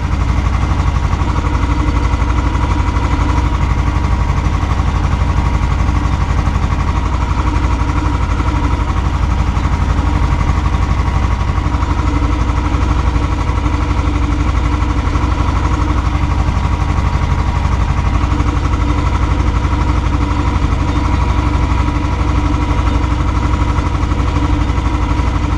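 A tractor engine drones steadily in third gear while spraying a triticale field, a continuous loud, even rumble with a mechanical knock that runs unbroken throughout.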